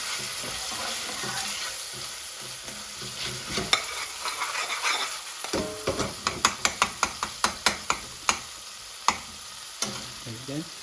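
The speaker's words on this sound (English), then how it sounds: "As soon as the spice starts catching to the pan, add some little bit of base gravy." Spices fry and catch in a pan while cooking a garlic chicken tikka chilli bhuna, with a steady sizzle under scraping and stirring. A run of sharp, evenly spaced knocks of the spoon against the pan follows.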